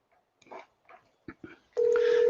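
A telephone call is placed: a few scattered clicks and short tones, then a steady ringback tone comes in and holds at the end.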